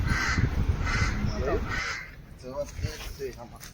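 A person imitates a crow's caw during an outing in the forest near Junagadh. Several short, harsh caws come in quick succession after a stretch of loud rumbling background noise, and other voices can be heard nearby.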